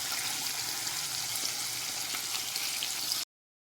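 Pieces of sea fish frying in a pan in a home kitchen, a steady bright sizzle with faint crackles throughout, close and continuous, stopping abruptly.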